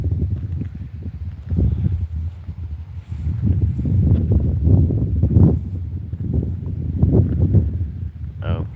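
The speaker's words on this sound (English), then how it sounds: "Can you guys hear the wind through the stream, Karina?" Strong outdoor wind buffeting a microphone during a live morning stream: heavy low rumbling gusts that swell and fall throughout, loud and close.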